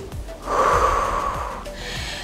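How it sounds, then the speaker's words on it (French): Heavy breathing during a gentle cardio workout as the exerciser lies on the floor for core planking, a long audible exhale swelling in the middle with breathy, slightly wheezy rasps, close to the microphone and with no talking. "Bien inspirer, expirer."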